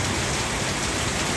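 Steady heavy rain pours onto a rooftop terrace that is filling with water, a dense, close hiss with no pauses and no voices.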